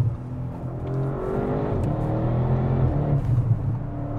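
An Audi RS car engine revs hard and steadily, its loud throaty drone rising and falling in pitch throughout, close by and with no talking over it.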